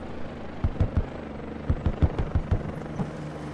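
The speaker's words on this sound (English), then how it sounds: "Nebula coming back in for the heli resupply." A helicopter flies in to resupply troops in the military shooter game SQUAD, with a steady rotor drone and a run of sharp, uneven thumps and cracks over it.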